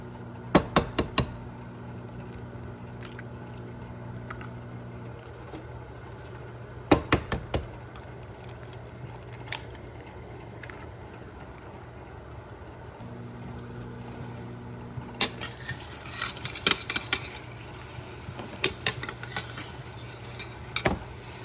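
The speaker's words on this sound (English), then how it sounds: "I'm just gonna give this a quick stir" Spoon stirring food in a microwave-safe bowl, a few short clinking and scraping bursts near the start, around seven seconds and again from fifteen seconds on, separated by quieter stretches over a low steady hum.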